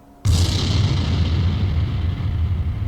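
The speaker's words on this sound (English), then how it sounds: "An explosion? It came from where I was before." A sudden loud boom in a video game erupts at once and then rolls into a long, heavy rumble that fills the rest of the moment, with no talk over it.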